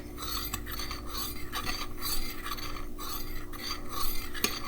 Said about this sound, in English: Stir in the melted chocolate.